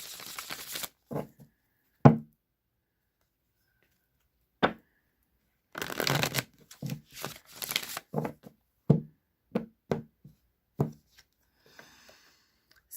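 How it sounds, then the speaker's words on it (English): Tarot cards are shuffled by hand in short, crisp bursts of riffling and slapping, separated by quiet pauses, close and fairly soft with no talk. "let's keep shuffling for the next one"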